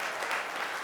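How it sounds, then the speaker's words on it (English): A brief, dense burst of audience clapping at a startup pitch competition during an Orlando conference, even and full throughout with no break. "Ruben, round of applause"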